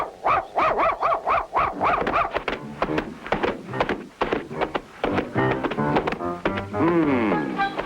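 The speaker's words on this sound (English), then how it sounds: "Go away, dog." A cartoon dog barks in a rapid series of sharp, close yaps at a circus, followed by further barks, yips and a rising whimpering howl near the end, with no speech heard.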